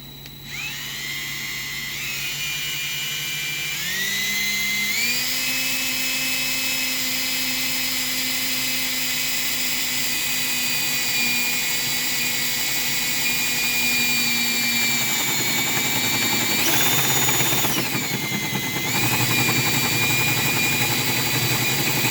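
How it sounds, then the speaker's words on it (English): A power drill with a hole saw cuts through a thick live-edge wood countertop in a van build, a steady loud whine holding under changing pitch for about twenty seconds, rising as the saw bites, with no talking. "I started drilling the hole from the top"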